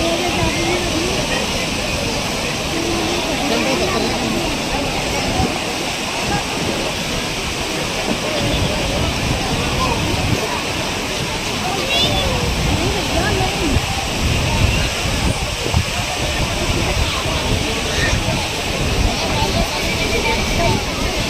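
The Ganges flowing past the ghats at Har Ki Pauri, Haridwar: a dense, continuous rushing roar of river water, loud and close, with crowd chatter blended underneath.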